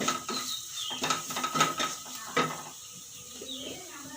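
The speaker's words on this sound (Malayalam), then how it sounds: "ഒന്ന് ഇളക്കാം." Okra masala with turmeric in a pan being stirred, a few quick metallic clinks and scrapes of a spoon against the pan at moderate volume, followed by quieter rustling.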